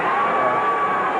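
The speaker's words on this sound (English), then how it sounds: "Crowd booing it." A Memphis wrestling arena crowd boos a ring move, a steady, dense roar of many voices that holds at a constant loudness throughout.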